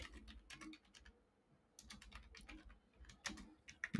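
Fingers typing on a computer keyboard, quick bursts of light clacking keystrokes with a brief pause in the middle, close but quiet, no talking.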